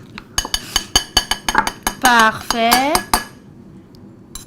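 Spoons rattled and clinking against a dish, shaken like maracas in a rhythmic burst of sharp metallic taps, close and bright, with a brief spoken word and a playful vocal sound mixed in partway through.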